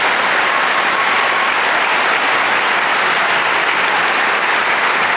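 A graduating class and guests applaud scholarship winners at a high school commencement ceremony, a loud, dense, steady wash of clapping from a large crowd, sustained without any talking.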